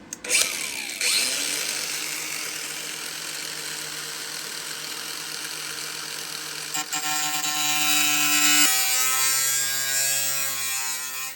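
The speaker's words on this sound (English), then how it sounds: "we can get the angle grinder and we can open this up a little bit" An angle grinder cuts into a car body panel during a repair, a loud, continuous high-pitched whine and grinding rasp that shifts in pitch partway through as the disc load changes, with no talking.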